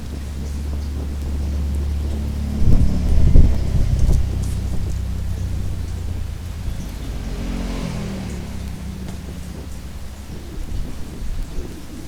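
Strong sea wind on a beach buffeting the microphone in heavy low rumbling gusts, with a louder blast early on and steady roaring throughout.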